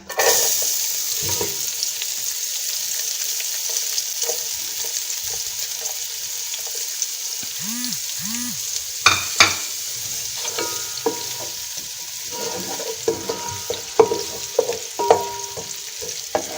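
Onions frying in hot oil in a pan for aloo baingan, a steady close sizzle with occasional stirring clatter and spatula knocks, no talking.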